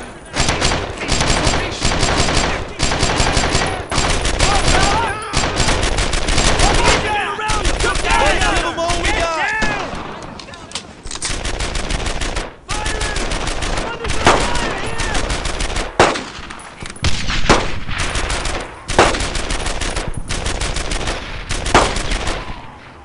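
Rifles and machine guns fire in rapid bursts during a Normandy 1944 battle in Brothers in Arms, loud and sustained with brief pauses, with shouted voices mixed in.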